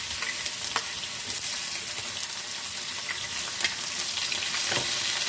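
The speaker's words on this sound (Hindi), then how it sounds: "ऑयल में हम प्याज को फ्राई कर लेते हैं" Chopped onions sizzle and crackle steadily in hot oil in a frying pan, with occasional stirring scrapes, close and continuous with no talk.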